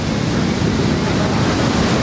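Ocean surf breaks in a continuous loud wash of white noise, with a heavy low rumble and no pauses, at a professional surfing contest.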